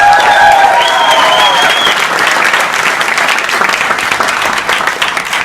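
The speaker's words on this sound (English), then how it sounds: "Give them a round of applause." Audience applause for a team at a motivational speaking event in South Africa, a steady wash of clapping from a crowd filling the hall, with a voice briefly heard over it at the start.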